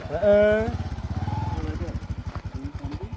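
A motorcycle engine putters in a steady low rhythmic chug close by, with a voice talking over the start before the engine carries on alone.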